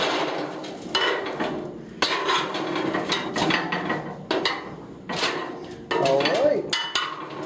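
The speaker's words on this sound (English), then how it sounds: "And that's our fire pot set down in there." A metal fire pot for a homemade coal forge, still hot from welding, is set down into the forge body, giving several close, loud metallic clanks and scrapes between short pauses, with a brief spoken remark.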